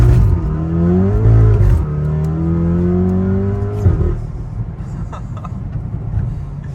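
A Volkswagen Golf 7R tuned to stage 3 with a Milltek full exhaust accelerates hard, its engine note climbing through the gears with a brief dip at each shift, loud and close, while people talk over it.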